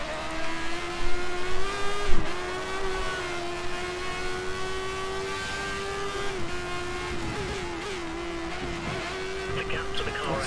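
A race car engine in a racing video game holds a steady high whine, rising and falling with gear changes and brief tire squeals, while someone talks over it.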